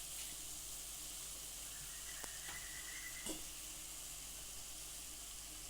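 Garlic sizzling steadily in hot oil in a pan for a Telugu garlic curry, a constant soft frying hiss with a few faint clicks of stirring, no talking.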